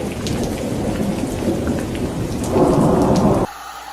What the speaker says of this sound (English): it's raining instead